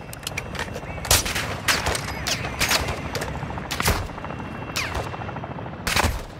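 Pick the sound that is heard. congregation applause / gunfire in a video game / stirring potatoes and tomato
gunfire in a video game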